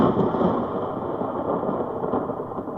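A thunderstorm sound effect from a 1950 radio suspense drama, with a steady, dense roar of rain and low rumbling thunder filling the whole stretch, loud and close, with no talk over it.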